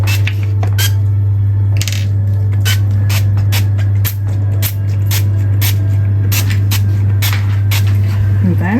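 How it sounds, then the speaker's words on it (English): Short hissing bursts of cooking oil spray repeat at an irregular pace over a steady low electrical hum, fairly close and moderately loud. "Spray some oil."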